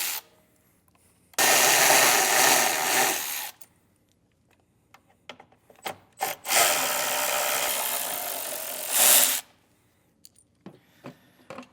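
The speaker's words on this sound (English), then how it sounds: "Take out those screws, and then also an 8mm socket just for this little screw at the bottom." A power driver with a Torx bit backs out taillight screws during a hidden trailer hitch installation, giving two sustained, loud whirring-grinding bursts of about two seconds each, with clicks and handling knocks between them.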